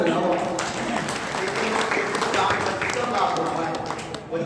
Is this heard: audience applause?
yes